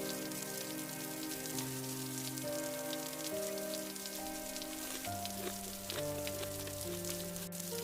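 Steady rain patters and hisses on surfaces beside an open street cart, continuous and fairly close, with a soft musical score running beneath it.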